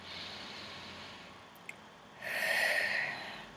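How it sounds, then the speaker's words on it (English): A person breathes slowly and deeply during an EFT tapping exercise: a soft, breathy inhale is followed by a louder, close exhale, with no talking. "Deep breath in"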